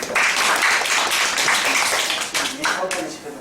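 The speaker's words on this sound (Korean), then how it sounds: "박수 한번 주시죠." An audience in a college classroom breaks into dense, steady applause for a few seconds, fairly loud and close, tapering slightly toward the end.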